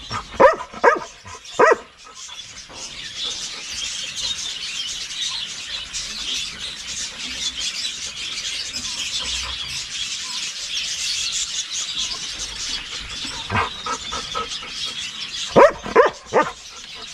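Bingo, a farm dog, barks in quick bursts at the start and again near the end, sharp and close, with a steady hissing background between the bouts.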